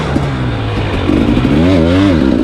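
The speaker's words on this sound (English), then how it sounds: "is still my favorite dirt bike for this kind of stuff" A 2023 300 XC-W dirt bike revs hard while riding off-road on washed-out single track. The engine note wavers and climbs steadily, loud and close, with no voices.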